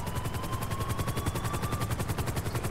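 Rapid automatic gunfire in GTA 5, a steady run of loud, evenly spaced shots layered over a droning helicopter rotor with a thin whining engine tone, continuous and close throughout.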